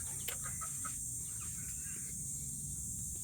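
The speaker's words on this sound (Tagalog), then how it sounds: "Manok." A chicken clucks a few brief, faint times near the start over a constant background hiss and low hum, with no one talking.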